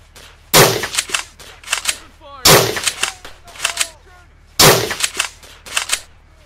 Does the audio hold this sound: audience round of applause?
no